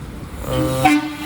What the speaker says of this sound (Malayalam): അങ്ങനെ നമ്മുടെ ഊഴവൻ എക്സ്പ്രസ് വരുന്നുണ്ട് കേട്ടോ.